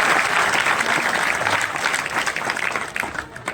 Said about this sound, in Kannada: ಅವರಿಗೆ ನಿಮ್ಮೆಲ್ಲರ ಪರವಾಗಿ ಜೋರಾದ ಚಪ್ಪಾಳೆಯನ್ನು ಸ್ವಾಗತಿಸಬೇಕಂತ ಕೇಳಿಕೊಳ್ತೀನಿ